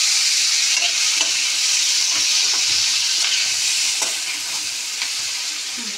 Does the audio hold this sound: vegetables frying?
yes